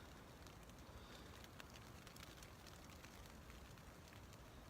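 Steady rain pattering on a taut surface, a dense hiss with scattered sharper drops, constant and close, no voices.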